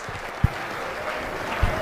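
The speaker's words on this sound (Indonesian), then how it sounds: "Oke, tepuk tangan dulu." An audience at a university talk by an ustad claps in a steady, fairly loud burst of applause lasting the whole moment, with a couple of sharper thumps standing out.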